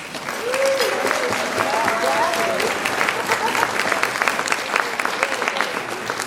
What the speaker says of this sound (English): So you should give yourselves a round of applause.